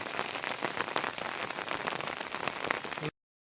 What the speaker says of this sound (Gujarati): વરસાદ જો આવો પડે